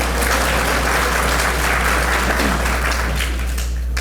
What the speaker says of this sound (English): how about another round of applause for Brother Isaiah?